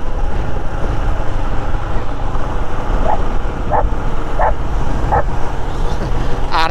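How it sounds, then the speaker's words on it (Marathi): A dog barks repeatedly inside a car, sharp yips spaced about every second over a steady engine and road rumble, ending in a higher whine. "गाड़ी में डॉगी है."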